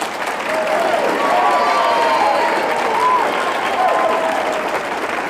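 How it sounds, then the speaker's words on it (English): Audience applause at the close of a 1993 New Jersey gubernatorial debate: a large crowd claps in a steady, dense roar, and a voice talks over the clapping the whole way through. "I did say you could clap"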